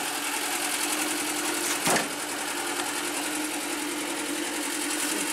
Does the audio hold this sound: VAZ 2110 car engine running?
yes